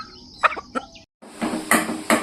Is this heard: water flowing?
no